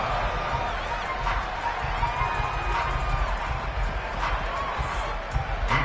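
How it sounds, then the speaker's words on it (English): A stadium crowd at a football game applauds the defense, a steady, moderately loud roar with scattered peaks under a commentator's voice. "How about some applause for the defense there?"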